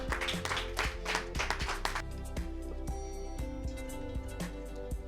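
A weigh-in crowd at a savate world championship applauds a fighter, dense clapping at first that thins into scattered claps over steady background music.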